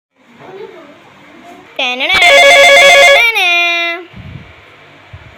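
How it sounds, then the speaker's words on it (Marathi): A telephone rings loudly and close for about two seconds, a bright electronic ringtone with sustained harmonic tones, framed by faint background sounds before and after. "हॅलो अरुण, एवढ्या सकाळी फोन?"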